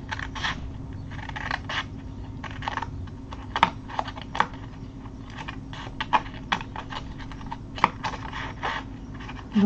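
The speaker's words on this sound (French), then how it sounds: "je prends mes ciseaux" Scissors snip paper tabs for a Stampin' Up! paper craft bag box, a run of crisp, irregular cutting clicks, close and fairly quiet, with no talk.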